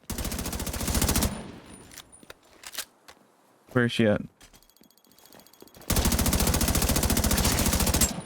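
Loud automatic gunfire from The Division 2 comes in rapid bursts at the start and again at the end, with scattered single shots and an explosion-like burst in between, and someone speaks briefly.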